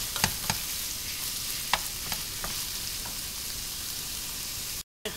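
Steady crackling sizzle of minced meat searing in a pan for bolognese sauce, with scattered clicks and taps of stirring; fairly quiet, no talking.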